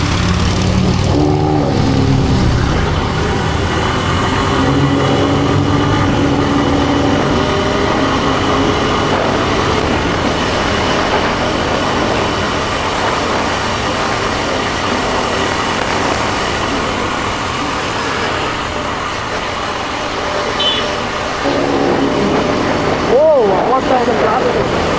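A modified Indian car engine revs loud and close for the whole stretch, its rumble rising and settling with a brief sharp rise near the end, while people talk over it.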